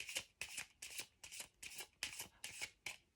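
Love oracle cards shuffled by hand, eight crisp riffling bursts in a steady rhythm, close and clear with short pauses between each pass.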